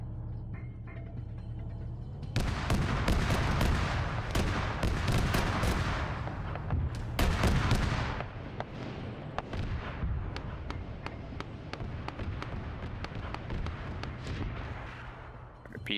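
Mortar and artillery fire in the military game Arma 3: repeated sharp booming blasts begin after a couple of seconds and continue in irregular bursts, loud and close, with scattered pops and a faint voice underneath.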